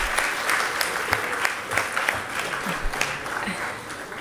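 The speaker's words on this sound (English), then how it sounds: "I think he deserves a round of applause." Audience applause at a university foundation day lecture, steady dense clapping with a few sharper individual claps, sustained and moderately loud throughout.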